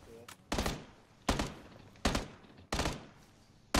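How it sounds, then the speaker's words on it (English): SKS rifle shots in a multiplayer shooter game, five sharp, evenly spaced cracks roughly every 0.8 seconds, each with a short echoing tail, fairly close and loud. "Sounds like a SKS"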